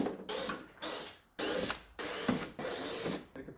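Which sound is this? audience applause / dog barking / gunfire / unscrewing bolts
unscrewing bolts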